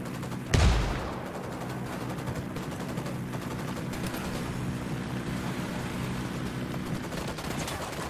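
A single sharp, loud gunshot rings out early in the Ghost Recon: Wildlands game, then a steady low rumbling ambience carries on for the rest of the stretch.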